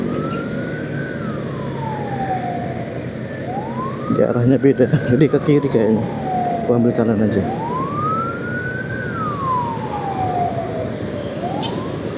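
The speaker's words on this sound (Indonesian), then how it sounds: "Kalau di belakang ada ambulans." Ambulance siren wailing in long rising and falling sweeps on a busy main road in Semarang, steady and fairly close over traffic rumble, with a person talking over part of it.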